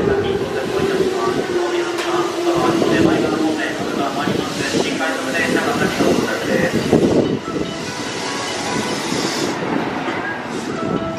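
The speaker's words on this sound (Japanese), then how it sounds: "電車が参ります。" A train pulls into a platform at JR West Kusatsu Station, with loud close rumbling and wheel clatter and a descending whine as it slows. Station announcements sound over it.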